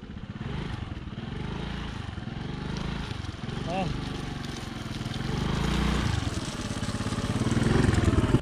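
A Honda Activa scooter with small tyres revs and strains while stuck in slippery mud on a trek route to Kalu Waterfall in Maharashtra; the engine drones unevenly and swells louder toward the end beneath people talking.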